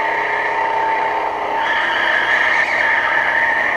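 Car lapping Wilson Circuit race track runs wide into the runoff, a steady engine drone with a rising pitch shift partway through as it drives on.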